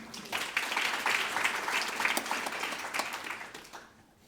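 A conference audience applauding steadily, dense clapping holding for several seconds before fading out near the end.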